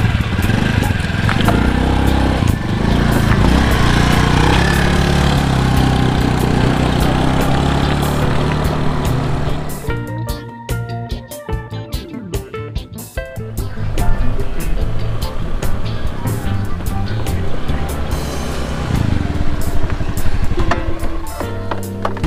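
A motorcycle engine runs loudly and close, with a steady buzzing drone that dips briefly midway before roaring back up.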